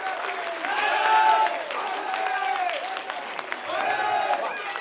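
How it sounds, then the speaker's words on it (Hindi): An audience at a poetry recital in Ghaziabad claps with raised hands, a dense, steady applause running throughout while a performer's voice chants over it in rising and falling phrases. "तालियां जरा हाथ उठाकर बजा दीजिए।"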